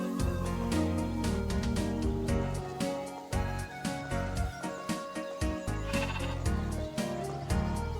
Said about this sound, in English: We can't do anything with the sheep either, but listen to them.